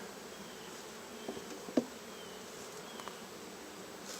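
Honey bees buzz steadily during a hive inspection, a soft continuous hum with a few faint knocks and no speech.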